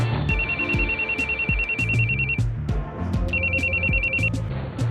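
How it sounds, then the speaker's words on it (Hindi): A mobile phone rings with a repeating electronic ringtone in two bursts while someone calls the police, set against a busy, noisy background with low rumbles and clattering. "फिर उसने किसी वक्त जेब से मोबाइल निकाला और 15 पर पुलिस को फोन करने लगा"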